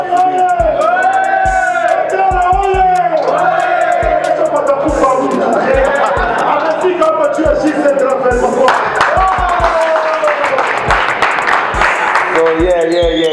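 A big crowd claps and cheers, with shouts and whoops rising over loud rhythmic music and thumping beats, voices calling out throughout and the noise staying dense and close.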